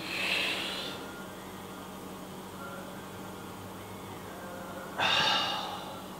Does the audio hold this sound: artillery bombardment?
no